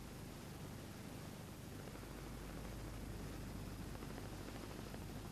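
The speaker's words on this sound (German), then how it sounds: "Gleich wird der Helikopter landen." Steady, dense broadband roar with a low rumble underneath from a landing rescue helicopter's rotor and engine close by, continuous throughout with no voices.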